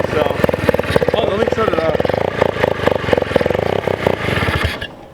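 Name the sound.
turbo rotary minibike engine idling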